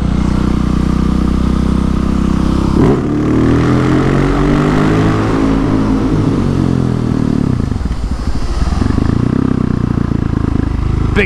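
A Husqvarna 701 supermoto's single-cylinder engine revs hard and close during a wheelie. Rising and falling engine pitch roars loudly throughout, with a brief dip near the end before it picks up again.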